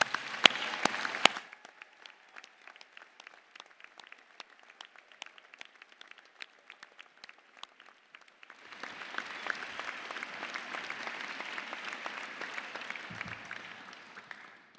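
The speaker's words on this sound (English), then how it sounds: "If you could all give them a round of applause." Applause at a university graduation ceremony in a large hall, a brief burst at the start, then scattered claps before a broad, steady wave of clapping from the crowd swells and holds to the end.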